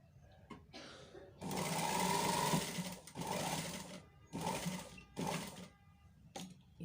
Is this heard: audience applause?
no